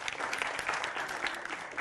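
Steady applause from an audience at a political debate on the Congress party's defeat, a dense wash of many hands clapping at once, fairly quiet and continuous throughout with no pauses.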